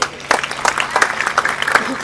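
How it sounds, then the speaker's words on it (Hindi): An audience claps to welcome a guest at a village gathering in Haryana, a brief burst of scattered nearby clapping with voices mixed in. "सबसे पहले तालियों से स्वागत करो।"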